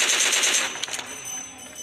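Rapid automatic gunfire in the battle royale game BGMI, a loud dense burst of repeated shots that thins out into scattered cracks over under two seconds, with no talk.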